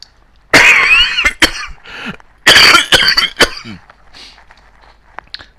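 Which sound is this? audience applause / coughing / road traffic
coughing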